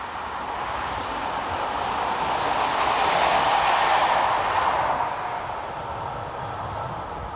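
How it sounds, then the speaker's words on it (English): An AM79 electric multiple unit, number 751, passes on a local Namur to Liège service in Belgium, a broad rushing rumble that swells to a peak mid-pass and then eases away. "AM79, unit number 751, heads east with a local service from Namur to Liège."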